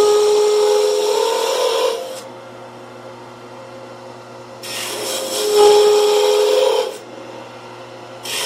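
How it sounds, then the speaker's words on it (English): A 1/16 inch parting tool on a wood lathe cuts grooves into a spinning wooden honey dipper. The loud scraping cut runs about two seconds, pauses under a low motor hum, then cuts again. "we're going to use the 1/16 inch parting tool, and we're going to make 5 grooves for our honey"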